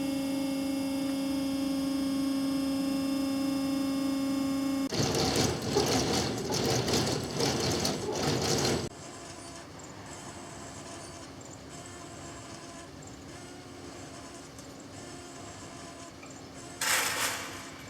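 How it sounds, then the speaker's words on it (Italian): Machinery at a drainage pumping station runs with a steady electrical hum, joined by a louder rumbling, clattering stretch of mechanical noise, then a quieter, even drone. "I macchinari, come puoi sentire, sono tutti in funzione."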